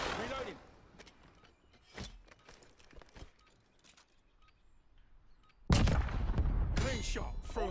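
Sharp video-game gunshots crack out as scattered single reports over a quiet stretch, then a louder burst of dense noise takes over near the end, with a voice talking in places.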